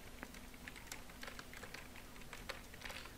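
Rapid typing on a computer keyboard while entering a salary sheet in MS Excel, a quiet, close stream of light irregular key clicks with no talk.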